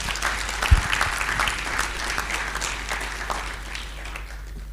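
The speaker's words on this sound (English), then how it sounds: "A round of applause to yourselves." Conference audience applause at an agricultural finance learning event, a steady round of clapping that starts with a sharp thump and tapers gradually over about five seconds.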